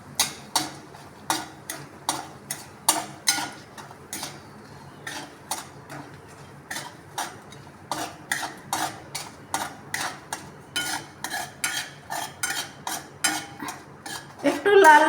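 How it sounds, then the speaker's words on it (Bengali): A spoon scrapes and knocks against a pan, stirring peanut paste in hot oil, a steady rhythm of repeated close clinks with faint speech in the background. "চীনাবাদামটা আমি এখন তেলের ওপর দিয়ে দেবো, দিয়ে একটু নাড়তে থাকবো।"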